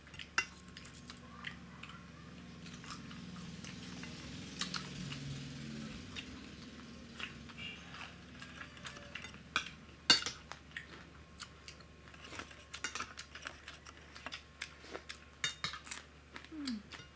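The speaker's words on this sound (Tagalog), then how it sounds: "maingay ba yung kutsara?" Spoon clinking against dishes during a meal of soup with okra and squash, sparse light taps and clinks scattered over a quiet room, growing more frequent toward the end.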